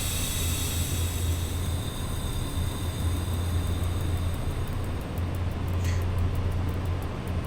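Train running in the railway simulator SimRail: a steady, continuous rumble with a rolling low drone and faint higher whine, loud and unbroken throughout with no talking.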